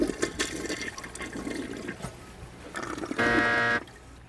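A toilet is flushed with the lever held down about 1.5 seconds, a close, splashing rush of tank water into the bowl, ending in a loud, steady gush before it cuts off.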